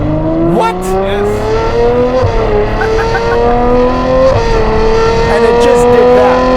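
A 2017 McLaren 720S making 1000 hp through a Novitec exhaust revs loudly and close, its engine note rising and falling in sweeping pitch climbs, with crackles and voices talking over it.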